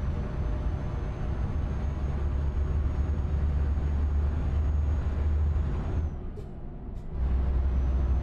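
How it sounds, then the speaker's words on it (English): A train goes by in the Euro Truck Simulator 2 driving game: a steady, loud low rumble and broadband roar with a faint high whine. The sound drops away briefly near the end, then the rumble comes back. "Is that what electric trains sound like?"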